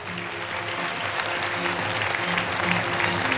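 A conference audience at the 2023 HWPL Global Peace Leaders' Conference applauds after a speech, a broad continuous clapping crowd with a faint tonal hum or music underneath, no speech on top.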